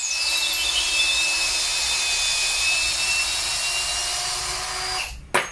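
A DCA 120 N·m cordless drill drives a screw with a steady high-pitched motor whine held close and loud for about five seconds, then stops abruptly, leaving a brief clunk.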